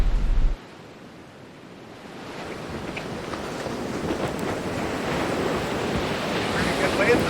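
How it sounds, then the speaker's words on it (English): Ocean surf rolls onto a Florida Gulf beach on Anna Maria Island after Hurricane Debby, with a steady, roaring wash of waves that builds slightly and heavy wind buffeting the microphone after a brief loud thump at the start. "Pretty good waves out there."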